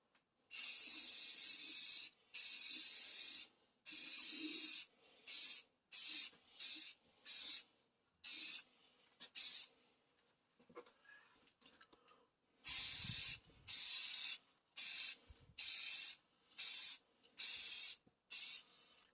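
Aerosol spray bursts of UV-resistant clear coat over blacked-out carbon-look headlights, a dozen or so short hissing passes of varying length with brief pauses between, loud and close, no talking.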